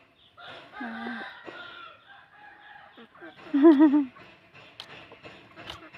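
A fighting cock crows once, loud and near, amid other roosters' clucks and calls at a cockfighting venue, with people talking quietly around it.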